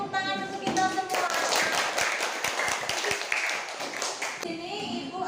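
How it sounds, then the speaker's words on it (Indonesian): A classroom of pupils claps together for everyone, a close burst of quick, uneven hand claps that runs for several seconds between stretches of voices talking at the start and end. "beri tepuk tangan untuk kita semua"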